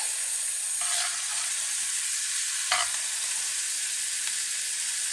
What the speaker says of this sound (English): Let me mix this up for about a minute or two